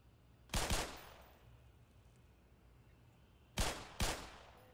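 Weapon fire in the video game Black Mesa, with a loud burst of shots near the start and two more sharp bursts near the end, set over a low, quiet hum.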